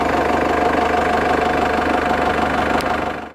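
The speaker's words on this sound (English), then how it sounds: "the best thing about 4BTs is that they sound like a tractor" A Cummins 4BT diesel swapped into a 1997 Lexus LX 450 Land Cruiser runs steadily with a rough, tractor-like clatter and deep throb, loud and close, fading out at the end.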